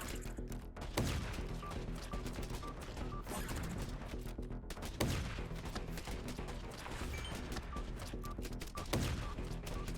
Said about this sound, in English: It's not just a good sounding explosion. It sounds like someone slapping a cardboard box.